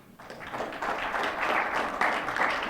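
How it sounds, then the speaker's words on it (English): A round of applause from an audience at a Texas A&M higher education center announcement, dense clapping that swells after a brief quiet start and carries steadily and loudly to the end. "And a nice round of applause"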